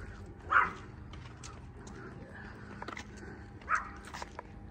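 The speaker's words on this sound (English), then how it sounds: "those dogs are crazy" Dogs bark excitedly somewhere nearby during an outdoor walk, two sharp bursts of barking a few seconds apart standing out over steady background ambience.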